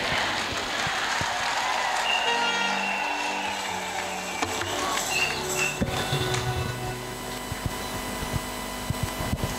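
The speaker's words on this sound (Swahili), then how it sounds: "Makofi tena kwa balozi wa Baba Mtakatifu kwa hotuba yake nzuri" An audience applauds the Papal ambassador to Tanzania after his speech, with scattered clapping and crowd noise in a large hall, sharp individual claps standing out against a steady background hum.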